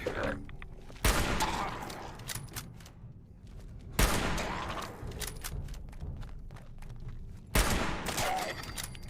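Sniper rifle fire in the video game Fallout 76: three sharp, loud shots spaced a few seconds apart, each with a booming tail, over low game ambience.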